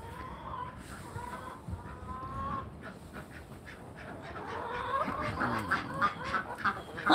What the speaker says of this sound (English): Hi, duckies.